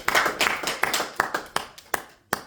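A church congregation claps in a brief, uneven burst of sharp hand claps. The claps keep loosening and thinning over a few seconds, close and moderately loud, with no talk over them.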